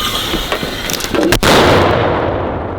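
A single loud mortar shot booms close by on a frontline position, a sharp blast followed by a rumbling decay that fades over a couple of seconds.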